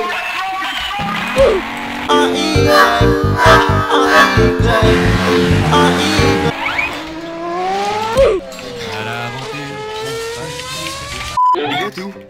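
In the game Garry's Mod, a car engine revs and changes pitch with rising and falling tones as the car drives around, while other game sounds play alongside and a sharp cut comes near the end.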